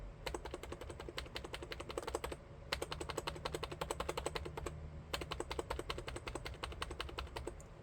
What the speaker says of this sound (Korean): 그 플라스틱 마찰 소리 들리시죠?